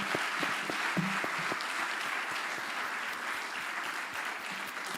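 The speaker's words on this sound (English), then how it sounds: "please let's give them a UCU rapturous applause" An audience at a career expo launch applauds departing speakers, a thick bed of clapping with some individual claps punching through near the front.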